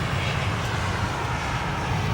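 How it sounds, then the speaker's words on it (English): Steady, broadband roar of a Cargolux four-engine cargo jet with General Electric GEnx engines rolling for takeoff on an airport runway, a constant loud rumble heard alone without talking. "So that Cargolux now rolling down 28 right, headed to Luxembourg. Should be some great sound from those 4 General Electric GEnx engines."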